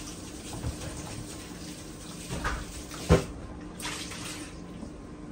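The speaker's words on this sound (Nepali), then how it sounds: "भाँडा पनि यति धेरै छ माझ्नुलाई।" Running tap water while a sink full of dishes is washed at home, a steady close splashing wash with a sharp clatter of a dish around the middle.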